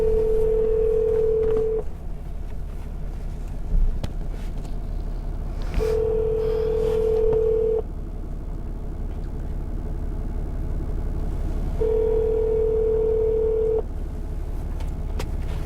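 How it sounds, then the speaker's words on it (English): A telephone call being placed with ringback tones in three long, even beeps spaced several seconds apart, heard over a steady low engine rumble inside a cargo vehicle. "We can try calling them again."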